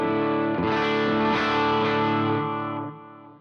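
A driven electric guitar through an ACS1 amp simulator rings out one thick, saturated chord that sustains for a few seconds and then fades.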